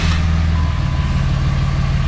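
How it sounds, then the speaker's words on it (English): A Cummins diesel RAM truck engine just after start-up, settling into a loud, close, steady low rumble with a throbbing idle. "We're gonna get it a first startup and take a little drive."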